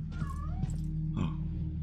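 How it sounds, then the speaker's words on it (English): A domestic cat meows a few times nearby, short rising and falling calls over a steady low electrical hum, no talk. "Is that a cat?"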